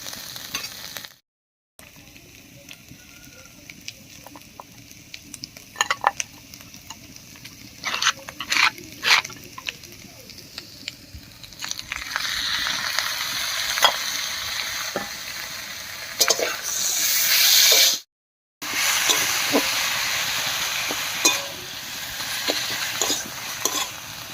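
Banana flower paste is added to potatoes and spices frying in a pan for mochar ghonto, with a steady loud sizzle and repeated close stirring scrapes that build in the later half.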